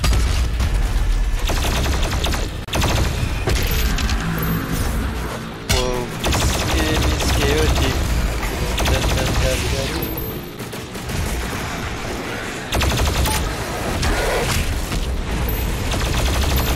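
Dense, loud enemy gunfire in the video game DOOM Eternal, with rapid overlapping bursts and booms filling the whole stretch with hardly a pause. A voice speaks briefly over the shooting.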